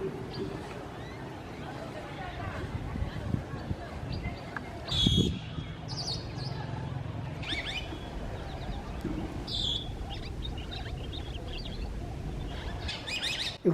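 Wild Senegal parrots in The Gambia give sharp chirps and squawks, mostly scattered and moderately distant, over a steady low background rumble, with one louder burst of calls partway through.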